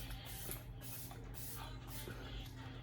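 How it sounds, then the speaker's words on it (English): Several quick hissing spritzes of a setting spray bottle onto a face, in short bursts, close up and fairly quiet, with no talking. "I'm just going to spritz it all over my face."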